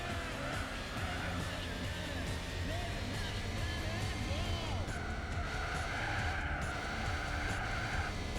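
A car engine labouring in the Gran Turismo 4 racing game, a continuous, strained engine drone with shifting pitch that runs steadily throughout at low volume, no pause or letup.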